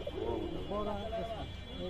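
Pigeons, including giribaz and shiraji breeds, coo in soft, throaty bursts at a village pigeon market, close but faint, over low background murmur and voices.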